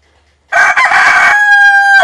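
A rooster that has appeared in a film gives one loud, close crow. It rises sharply after a brief silence and holds a long sustained final note.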